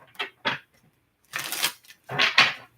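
A deck of tarot cards shuffled in three close, papery riffling bursts separated by brief silences.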